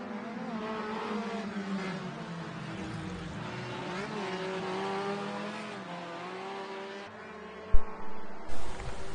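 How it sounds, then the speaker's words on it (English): A race car engine in a sim racing game drones and revs, rising and falling steadily at moderate loudness, with a couple of sharp thumps near the end and no voice heard. "I wanted to make sure you could hear my voice over the engine noise"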